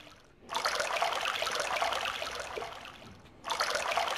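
A small stream near a cave trickles and splashes steadily as a sound effect, running for a few seconds, pausing briefly, then starting again at a moderate, close level.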